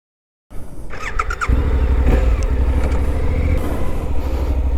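A Suzuki V-Strom 800DE adventure motorcycle engine roars steadily up close while riding on road tires, with brief squealing tones at the start before the motor settles into a loud, continuous drone.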